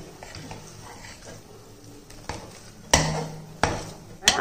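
A spoon scraping and knocking against a pan while stirring a ghee-roasted roasted-gram sweet, with a few sharp metallic clinks standing out over a quiet kitchen background.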